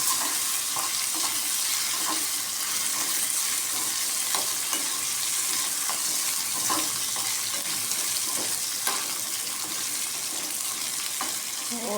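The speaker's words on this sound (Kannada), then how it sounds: "ನೋಡಿ ಚಂದ ಮಾಡಿ ಫ್ರೈ ಆಗಿದೆ" Leftover idli made from urad dosa batter frying in a pan, a constant loud sizzle with faint stirring and scraping clicks recurring through it, no talk.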